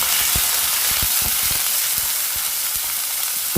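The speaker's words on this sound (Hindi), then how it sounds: "जो ही गर्म होता है तो हम अपना चिकन इसमें डाल कर अच्छे से भुनाई करते हैं।" Chicken pieces frying in hot oil in a pan, a steady loud sizzle and hiss with irregular crackles and pops throughout, close up with no talking.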